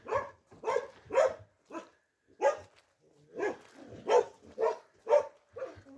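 Several dogs bark repeatedly in a field at a hedgehog, a run of sharp, fairly close barks in irregular bursts with short pauses between, no voices.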